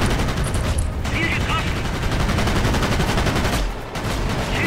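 Rapid continuous gunfire from a warplane in World of Warplanes, a dense rattling stream of shots with two short breaks, loud and close.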